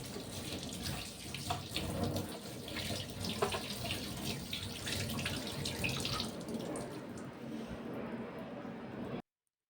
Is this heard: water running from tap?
yes